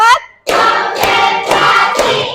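Classroom hand clapping in a counted rhythm: a few sharp, close claps in quick succession, each loud and distinct, with a short pause before the run.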